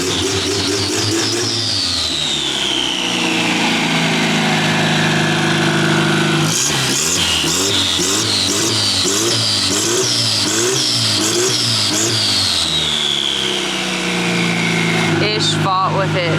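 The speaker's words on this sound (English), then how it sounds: "My truck's running." A custom 1989 Toyota Pickup truck engine idles steadily, then revs up in a series of rhythmic throttle blips before settling back, loud and close, with voices talking over it.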